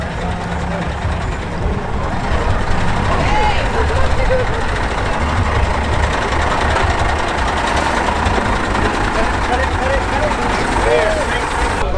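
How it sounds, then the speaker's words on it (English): A deuce and a half military truck pulls up, its engine giving a steady, loud, rough rumble throughout, with voices talking over it. "It's Blake pulling up in his new deuce and a half."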